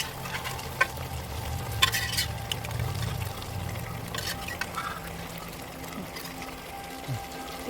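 Boiled mutton goes into a pot and is stirred while frying for a nati-style mutton biryani: quiet sizzling under repeated scraping and clinking stirs, with a voice talking now and then.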